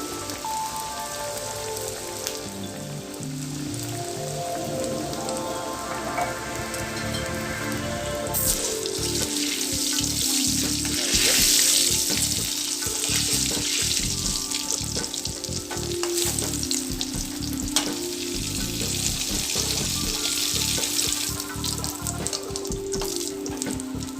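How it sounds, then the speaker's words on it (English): A spring roll dropped into hot oil sizzles steadily with a dense crackling hiss, close and continuous, swelling as the oil bubbles up around it with no talking. "Parcel is ready, and I'm going to quickly then take it here, put it in my hot oil."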